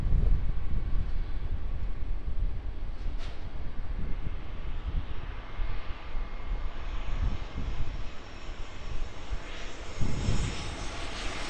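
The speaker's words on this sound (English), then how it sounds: "Looking like it could be an Airbus A320." An Airbus A320 airliner at Sydney Airport roars past with a broad, rumbling engine noise that swells and shifts over several seconds, mixed with some wind buffeting on the microphone.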